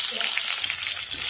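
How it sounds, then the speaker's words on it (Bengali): Garlic fries in hot oil in a pan for dal curry, a steady dense sizzle filling the whole moment at close range with no talking. "অন্য কড়াইয়ে দিয়ে দিলাম তেল, রসুন ভালো করে লাল করে ভেজে নেব।"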